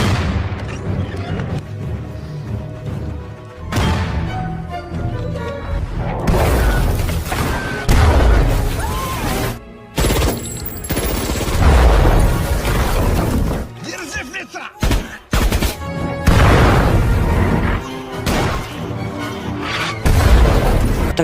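World War II battle effects with Soviet and German troops exchanging fire around a house: repeated loud gunshots, heavy booms and crashing explosions, dense and close, under dramatic music with a voice narrating at times.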